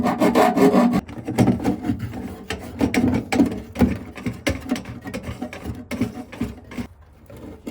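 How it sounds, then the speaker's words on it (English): A grinder cuts a hole in the fiberglass bench seat of a jet jon boat. The rough, uneven rasping and scraping comes up close in irregular bursts, with no talking. "Now we gotta get the grinder, cut a hole in the bottom of the bench seat"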